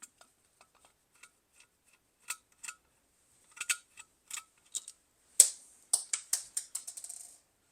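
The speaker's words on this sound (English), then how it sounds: "so I've got to undo these screws here" Small screws are worked loose from the mounting plate of an indoor wall light, a quiet series of sparse clicks and ticks that grows into a quicker run of close metallic taps.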